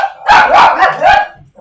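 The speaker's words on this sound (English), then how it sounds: "If you're gonna sit in the window and bark, get in the crate." A dog barks from its spot at a window in a house, giving a quick run of four loud, close barks that ends in a brief whimper.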